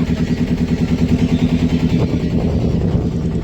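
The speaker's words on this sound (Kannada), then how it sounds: "ಕಾಶಿಯಲ್ಲಿ ಬೋಟ್ ರೈಡ್ ಹೋಗ್ತಾ ಇದ್ದೀವಿ" A loud, steady motor boat engine drones continuously with a throbbing low rumble, close by and without pause, on the river at Kashi.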